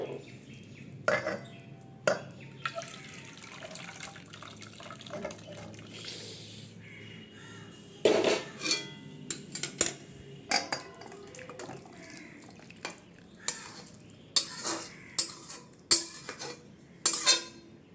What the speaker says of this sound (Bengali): এবার আমি তরকারিটা নামিয়ে নেবো একটা বাটিতে।